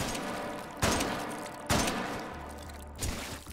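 Gunfire in the VR game Hot Dogs, Horseshoes & Hand Grenades, three spaced heavy shots over a steady noisy background, moderately loud, with no voices.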